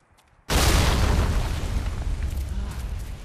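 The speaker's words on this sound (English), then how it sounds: "I don't know how that exploded, but I'll take it." A sudden loud boom bursts at a cave entrance in the video game Jade Empire, then rolls into a long, heavy rumbling roar that slowly fades while staying strong to the end.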